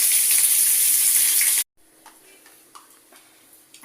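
Onions frying in a pan give a loud, steady, bright sizzle for about a second and a half, then it cuts off, leaving a quiet kitchen with a few faint ticks and clinks.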